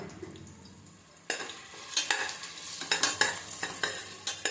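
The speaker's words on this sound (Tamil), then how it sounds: "வெங்காயம் நல்லா வதங்கட்டும்." Sliced onions sauté in hot oil and ghee for a Dindigul mutton biryani. A steady sizzle runs under repeated spoon-scraping strokes, which grow louder and more rhythmic after a quiet start.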